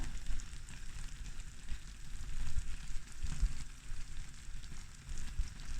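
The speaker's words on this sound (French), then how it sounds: "je me taisais pour que vous entendiez un peu le crépitement" Caramel crackling in a pan while tarte tatin cooks: a steady, faint sizzle with soft irregular pops and crackles that carries on without a break. No talking.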